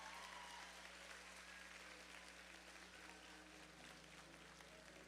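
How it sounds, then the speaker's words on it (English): Faint, distant applause for 2025 graduates at a prom, a soft continuous patter of clapping over a steady low hum. "Can we give one more round of applause, folks, for the 2025 graduates of Ascension Collegiate?"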